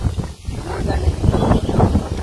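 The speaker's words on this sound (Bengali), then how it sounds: "এখন আর কি ঠান্ডা একটা বাতাস" A cold wind gusts across a Bangladeshi village during the rainy season after a light shower, rumbling low against the microphone in steady, uneven buffets for a couple of seconds.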